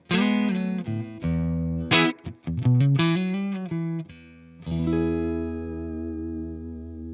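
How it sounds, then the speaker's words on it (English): Cheap $75 Amazon electric guitar played clean through a Fender Deluxe Reverb amp: sustained chords, a quick run of plucked notes, then a final ringing chord that decays slowly, close and clear with no talking. "I put it through the Fender Deluxe Reverb and you get this beautiful,"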